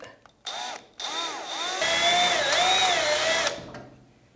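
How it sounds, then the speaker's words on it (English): A small power drill with a small bit whines steadily at high pitch, its tone dipping and rising as it bites into a garage door while reinstalling an opener, running for a few seconds close by. "let's start with really small drill bit"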